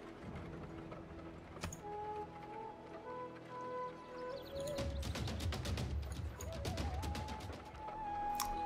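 Rapid gunfire crackles in a burst of repeated shots during a Civilization VI city battle, preceded by mechanical clanks and tonal game effects, with no talk.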